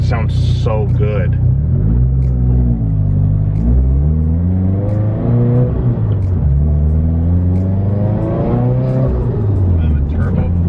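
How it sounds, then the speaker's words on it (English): A car engine revs loudly up close, pitch rising and falling through several throttle blips, with a brief fluttering turbo hiss as it lets off. "And the turbo flutter."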